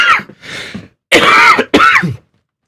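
Several harsh coughs and throat-clearing bursts from a person still recovering from the flu, close and loud, in two clusters with a short pause between, no speech.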